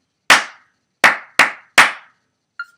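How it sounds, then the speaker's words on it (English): Four sharp, close hand claps ring out alone in a steady rhythmic figure during a music exercise, with a small quieter tap trailing after. "Again, and clap."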